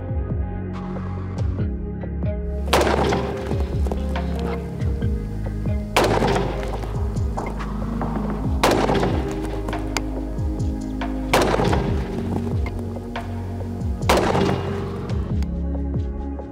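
AR-15 type carbine with a 14.5-inch barrel fired at an outdoor shooting range, five sharp, loud reports spaced a few seconds apart, each trailing into a rumbling echo over a low background hum.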